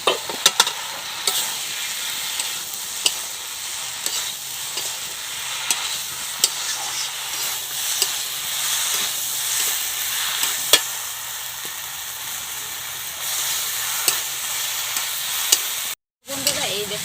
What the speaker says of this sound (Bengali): মাশরুমটা দিয়ে কিন্তু এইভাবে নাড়াচাড়া করে নিয়েছি